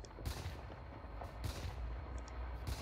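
Shrapnel ability from the Sniper hero in the video game Dota 2, a series of heavy, booming low-frequency impacts and bursts at irregular intervals, faint overall.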